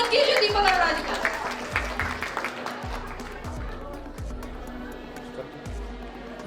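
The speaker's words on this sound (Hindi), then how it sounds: "जोरदार तालियों से स्वागत कीजिए दीपक अरोड़ा जी का।" Audience applause greets a guest called to the stage at a Holi celebration gathering in an office tower in Faridabad, a loud wash of clapping that thins and fades over several seconds, with a public-address voice and low rhythmic thumps underneath.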